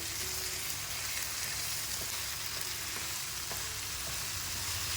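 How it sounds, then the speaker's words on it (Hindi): Minced keema meat frying with spices in a hot pan, a steady dense sizzle that stays loud and unbroken throughout, close up with a few faint utensil touches. "इस तरीके से मसाले डाल के भूनिए, इसको खूब अच्छे से भूनिए।"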